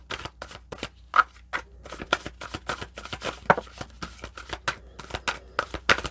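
Tarot cards being shuffled by hand, a quick irregular series of crisp snaps and riffles close up, with brief quiet gaps between bursts.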